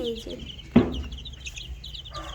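A hen clucks and calls near a flock of chicks and ducks, one sharp squawk standing out over soft background cackling.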